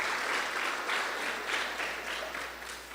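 A church congregation claps loudly and steadily in praise, a dense, continuous wash of applause filling the room for the full stretch with slight swells in intensity.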